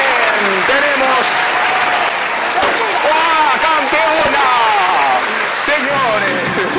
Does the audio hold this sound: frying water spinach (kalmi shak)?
no